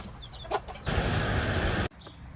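Newly hatched chicks and a hen on a farm give a few brief, close chirps and clucks, followed by a louder stretch of broadband rumbling noise that drowns them out.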